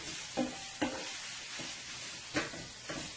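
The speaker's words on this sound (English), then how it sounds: "we're going to let this saute it up nice and brown, golden brown and crispy" Bacon and sausage sauté in a frying pan for a breakfast wrap, a steady close sizzle broken by a few sharp scrapes of a stirring utensil, with no talking.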